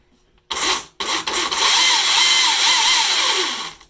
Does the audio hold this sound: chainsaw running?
yes